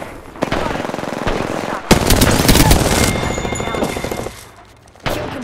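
Loud automatic gunfire in Apex Legends, long sustained bursts of rapid shots with a brief drop before a final sharp volley, up close and dominant.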